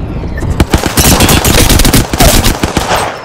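Rapid automatic gunfire in the battle royale game Apex Legends crackles loud and close, dense overlapping shots in quick bursts throughout with no pause.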